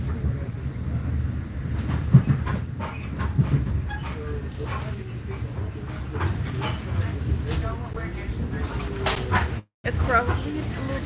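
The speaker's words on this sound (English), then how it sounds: "I'm on a train going to Yale" Inside a train carriage on a ride to Yale, a steady rumbling ride noise with clatters and bumps runs throughout, while a person talks over it; a brief dropout occurs near the end.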